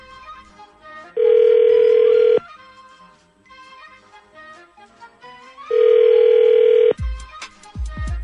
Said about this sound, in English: So this will be Amy's phone number.